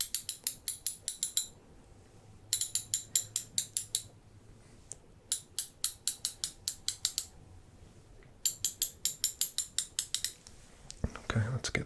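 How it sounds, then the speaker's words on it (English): Ratchet wrench tightening lug nuts on a kart in an ASMR roleplay, rapid clicking bursts in four close, crisp runs separated by quiet pauses, ending with a short clatter. "start tightening up some of these lug nuts here"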